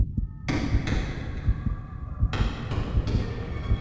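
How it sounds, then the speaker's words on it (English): Knocking sounds echo in a mine shaft in The Famous 5 video game, dull repeated thuds in an irregular rhythm over a low rumbling background, muffled and moderately distant. "Weren't those knocking sounds?"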